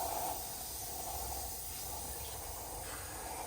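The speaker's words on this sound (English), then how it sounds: "This is steam, Hector." Steam hisses steadily at a campsite beside a Tesla Model Y, a continuous close, fairly quiet airy rush with a slightly louder start.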